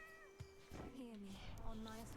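A game cat in Hades II lets out a drawn, whiny meow with rising and falling pitch, over clattering game effects and a voice talking.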